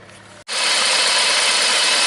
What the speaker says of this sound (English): now engine is running even badly. It vibrates really badly